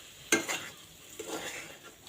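Egg frying in oil with onion, garlic and ginger, a faint soft sizzle punctuated by a sharp clink of a utensil on the pan and a brief stirring scrape.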